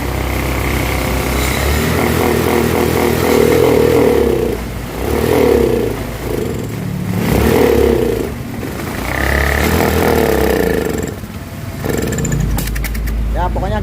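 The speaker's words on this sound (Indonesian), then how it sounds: "Pokoknya penyakitnya kayak gitulah, berebet di gas kempos nih" A Honda Beat/Scoopy fuel-injected scooter engine sputters and bogs as the throttle opens, revving unevenly in repeated surging bursts with rattling, misfiring roughness, close by.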